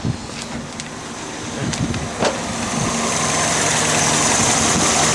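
A Honda Civic engine with a newly replaced alternator idles steadily and close by. The low rumble grows slightly louder toward the end, and no one speaks.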